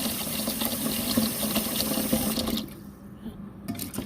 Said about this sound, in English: I'm just gonna put some water in there.